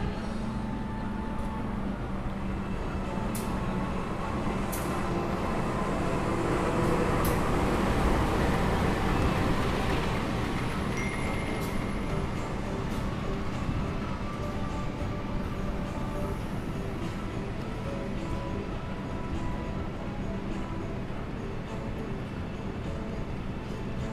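The Fajar Utama Yogyakarta passenger train, built with first-generation stainless steel carriages, rolls into platform 2 with a sustained low rumble and rattling wheels that swell and then hold steady, heard from the station.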